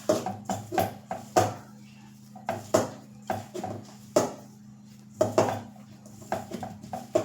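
Farali thepla dough ingredients being mixed in a bowl, with oil added, giving repeated clinking, scraping taps of a utensil against the bowl in an irregular rhythm, close and fairly quiet.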